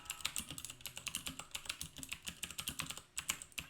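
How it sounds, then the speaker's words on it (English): Rapid clicky typing on a mechanical keyboard fitted with MX Blue switches, close and fairly loud, with dense irregular keystroke clicks and no talking. "you guys can probably hear the click-clack from my keyboard"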